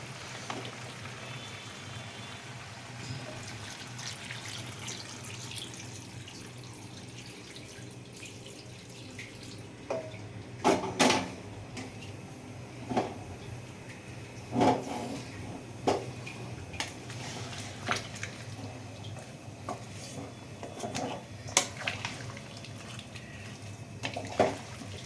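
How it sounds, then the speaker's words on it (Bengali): Hot water flows into a pot of country chicken curry as a soft, continuous watery rush, with scattered clinks and knocks against the pot partway through. "এবারে আমি গরম জলটা দিয়ে দেবো।"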